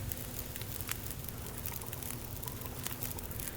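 A campfire burns steadily in the survival game The Long Dark, giving a continuous low crackle and hiss with occasional sharper pops, close and fairly quiet with no talking.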